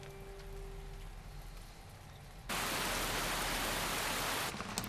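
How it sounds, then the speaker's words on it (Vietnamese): Heavy rain in a drama scene, a quiet room tone that suddenly gives way to a loud, dense hiss of downpour, steady and close, with no voices. "trời đang mưa to lắm"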